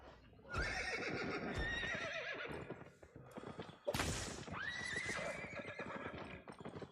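Horse in a video game neighing loudly twice, long shrill whinnies with trailing snorts and hoof clatter, close and clear with no talk over it.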